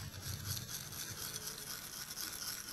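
A toothbrush scrubs a child's teeth in small circular motions, a steady close bristly rasping that runs continuously without a break.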